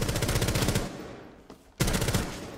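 Gunfire from the tactical shooter game Rainbow Six Siege: rapid automatic bursts, loud and close, stopping briefly before another burst resumes, with no talk over it.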